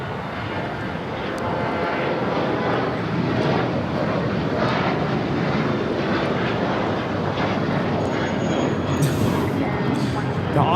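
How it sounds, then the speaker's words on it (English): Emirates Airbus A380 airliner at LAX airport, a broad steady jet engine roar holding loud and close for the whole stretch, with a faint higher whine near the end. "That would be the Emirates A380."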